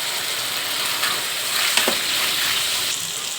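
Four medium tomatoes and two long-cut green chillies fry in a pan with a steady, close sizzle, broken by a brief scrape of stirring midway.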